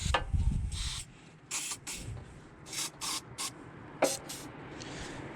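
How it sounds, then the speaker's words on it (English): Short hissing bursts from a can of silicone spray during a 2000 Cadillac engine tune-up, about seven quick sprays of varying length with brief pauses between them, close and fairly quiet. "Give them a little touch of silicone spray as well."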